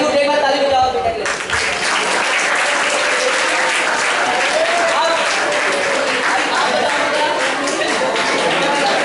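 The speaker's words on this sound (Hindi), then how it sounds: "एक बार ताली बजाओ बेटा के लिए" Audience applause for a student in a classroom, a dense, steady clapping that fills the whole stretch at close range, starting under a brief spoken phrase.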